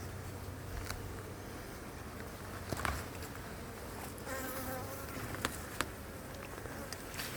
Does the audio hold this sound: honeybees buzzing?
yes